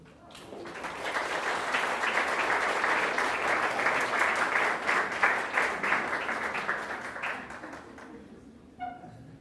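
An audience applauds an award-winning municipality honoured at a beach awards ceremony for 20 consecutive years of full-status beaches. The clapping is loud and sustained, dense and steady for around eight seconds, then tapers off near the end.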